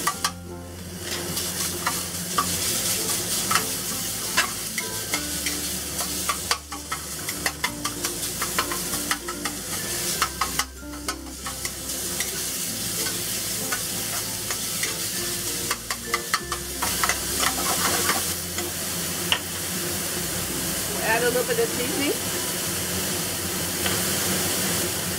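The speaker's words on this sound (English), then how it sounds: "We're gonna cook the pork. Break up the pork in little pieces." Small pieces of pork stir-fry in a hot wok for Sichuan-style dry braised shrimp, giving a steady sizzle with frequent scraping and clattering stirs, close and continuous, with no speech.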